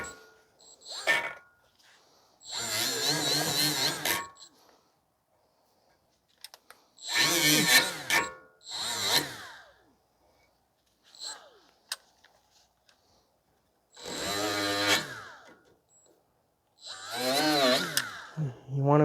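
Power tool scrubbing rust from the brake pad contact points on a 2016 Ford F-150 3.5 rear brake, in several loud separate bursts with quiet gaps and faint clanks between.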